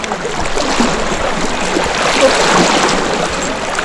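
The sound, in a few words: flowing stream water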